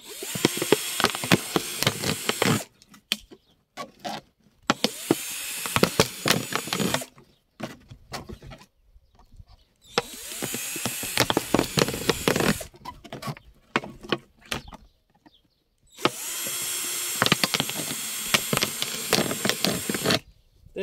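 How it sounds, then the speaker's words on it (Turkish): A power drill bores four holes around a plastic bottle for planting village tomatoes, running in four bursts of a few seconds each, with short quiet gaps between them, close and loud. "Şişe çevresine 4 tane delik vereceğiz."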